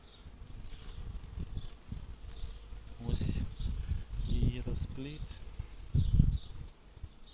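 Honeybees buzz steadily at an open hive while frames are inspected, a close swarming hum with individual bees droning past, and a person speaks intermittently over the buzzing.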